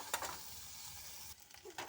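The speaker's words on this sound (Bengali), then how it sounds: "তো এটা একটু ভেজে নেব" Goat leg pieces frying in a pan for a children's curry, giving a quiet, steady sizzle with a few soft stirring scrapes and a brief dip near the end.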